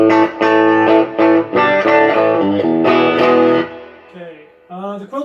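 An electric guitar played through a Peavey Audition 30 amp with reverb rings out in a loud run of chords and notes, fading into quieter lingering tones and a final short phrase.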